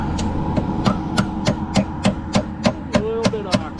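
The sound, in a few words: hammer nailing vinyl siding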